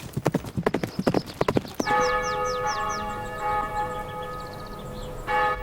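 Horses' hooves clip-clop in a quick, close rhythm on a hard surface as riders approach the cathedral at Canterbury, then stop as a church bell rings out and keeps ringing.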